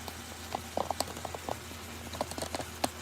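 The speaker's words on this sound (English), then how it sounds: "We got our water boiling over there" Water boiling in a pot on a kitchen stove while spaghetti is cooked, a steady low bubbling hiss broken by scattered soft pops and ticks, fairly quiet and continuous with no talk.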